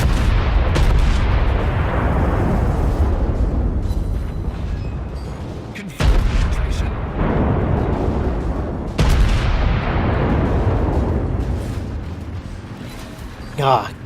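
Heavy naval guns of the USS Texas battleship in World of Warships boom in three big salvos, each a sharp crack followed by a long rumbling decay, loud and close, with faint voice chatter underneath.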